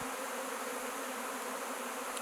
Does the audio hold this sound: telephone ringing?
no